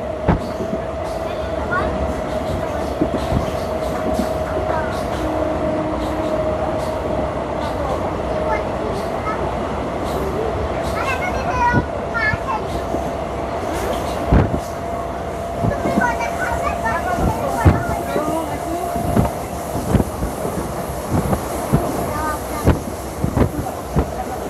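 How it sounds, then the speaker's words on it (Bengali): An electric Ahmadpur-Katwa MEMU train on a broad-gauge line rolls into Ambalgram station, heard from onboard as a steady rumble with rhythmic wheel clatter and clunks, while someone talks over it. "আমাদের ট্রেন এখন এসে দাঁড়িয়েছে অম্বলগ্রাম স্টেশনে"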